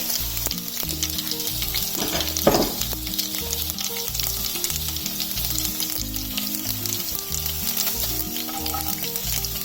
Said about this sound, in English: Let the urad dal fry a bit. In this I'm going to add some curry leaves also.